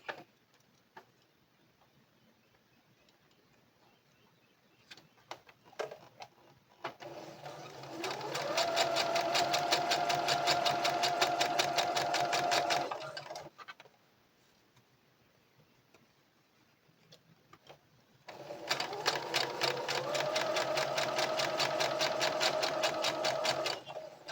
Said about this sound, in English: I'm gonna do a little straight stitch, back stitch that